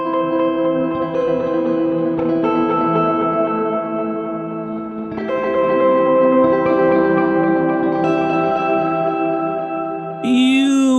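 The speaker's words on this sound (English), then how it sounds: "So now the pitched down version's feeding the reverb." A pitched-down musical signal feeds a reverb effect, producing sustained, washy harmonic tones with long echoing tails that swell and shift, continuous and fairly loud, with a brighter burst near the end; no one talks.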